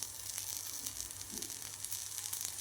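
Spicy jilebi fish, fresh from the river, frying on a dosa griddle: a soft, steady, low sizzle throughout, fairly quiet and with no voices.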